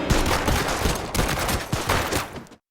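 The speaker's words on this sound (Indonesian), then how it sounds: "Zo, Park, dan Dodoh sama-sama terkena tembakan" Heavy gunfire in a mafia action film scene, with rapid overlapping shots from several guns in a loud, sustained fusillade that cuts off abruptly at the end.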